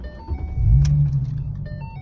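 A 2010 Ford Mustang V6 4.0 with Pypes true dual exhaust, shorty headers, a K&N Typhoon cold air intake and a 93-octane race tune, revving once with a deep rise and fall before settling back to a low idle.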